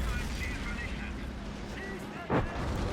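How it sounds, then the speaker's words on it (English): Mortar rounds boom during a Men of War: Assault Squad 2 Western Front offensive, one sharp blast cutting through steady rumbling battle noise, with a voice talking over it. "Looks like the mortars are doing some good work."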